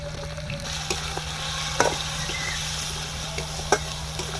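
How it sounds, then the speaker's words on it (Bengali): A ginger, garlic and chili paste masala with salt and turmeric fries in a pan for chicken biryani, a steady close sizzle with occasional scraping stirs. "এই মশলাটা হালকা করে কষিয়ে নেব।"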